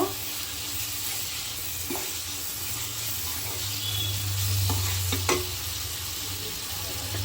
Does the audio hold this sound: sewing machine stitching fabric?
no